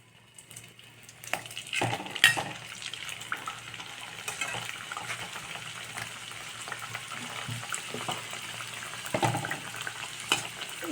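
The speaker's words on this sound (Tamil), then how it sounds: "இன்னும் ஒரு 2-3 போட்டு பொரிச்சு எடுத்துடலாம்." Sweet poori dough frying in hot oil, a steady bubbling sizzle running throughout with a few sharper crackles and bursts, fairly close and moderately loud, with no talking.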